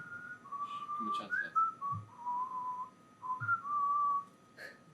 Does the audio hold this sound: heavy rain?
no